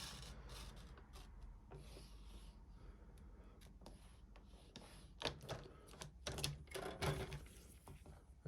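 A paper trimmer cuts through card stock with faint, close scraping and rubbing strokes, ending in a cluster of light clicks and taps. No voices are heard.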